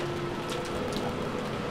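Rain in a video game, a steady, even hiss of falling rain with a faint tonal hum beneath and a few soft patters, with no speech.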